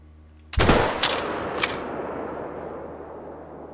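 A single sharp rifle shot fired at a beaver in The Hunter: Call of the Wild, loud and close, followed by a quick second crack and a long echoing tail that fades out.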